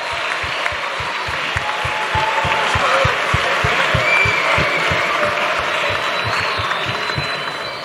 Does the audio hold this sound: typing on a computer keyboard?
no